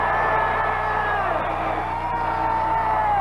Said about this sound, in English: he ought to get a tremendous round of applause from the Falcons faithful